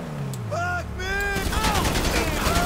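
Pistol shots ring out in a shooter game on hard difficulty, a few sharp cracks mixed with game sound effects, and a voice talks over part of it.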